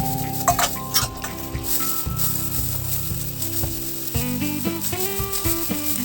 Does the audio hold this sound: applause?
no